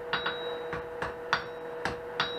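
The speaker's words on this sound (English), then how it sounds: "You can use a wood hammer for that, so you don't end up with little flat spots." A wooden hammer strikes hot forged steel on a braided twist handle, six or seven dull, evenly spaced blows ringing out close and clear with no talk.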